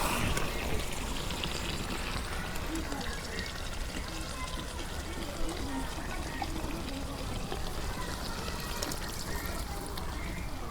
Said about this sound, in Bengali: এখন অল্প পানি দিয়ে দিই